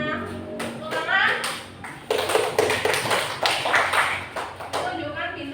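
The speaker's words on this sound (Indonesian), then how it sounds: "Ya, sekarang kita tepuk tangan buat teman-teman semuanya." A primary school class claps hands for classmates in a series of sharp, uneven bursts of handclaps close to the microphone, with children's voices and a teacher talking between the claps.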